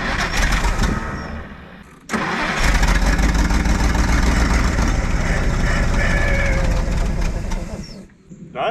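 A 1952 Kenworth Pacific bus engine, an old junked bus running after a coolant top-up, loud and close, cutting out briefly and then catching again into a steady rough idle that dips near the end.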